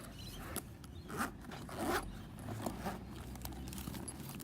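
A zippered pencil case inside a fishing tackle bag is unzipped in a few rough, rasping pulls, close and fairly quiet, with small handling clicks and rustles around them.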